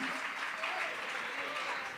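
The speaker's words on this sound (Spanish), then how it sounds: "Dele ese aplauso al Señor" Congregation clapping in a church service, sustained dense applause throughout, bright and steady, with a voice faintly underneath.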